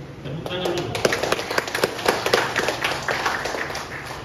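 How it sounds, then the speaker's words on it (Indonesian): An audience at an installation ceremony for a Yapis branch board in Keerom regency claps at a regent's request, a quick patter of many hands, moderately loud, with a voice speaking over it. "Tepuk tangan dulu."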